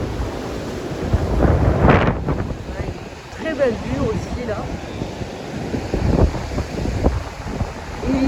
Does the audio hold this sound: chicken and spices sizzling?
no